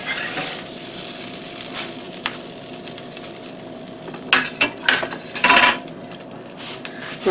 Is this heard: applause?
no